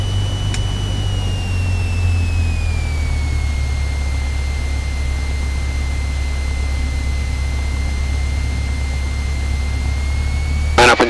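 A Cessna 172 engine drones loudly and steadily at takeoff power on the runway, heard from inside the cabin as a constant low roar with a faint rising whine.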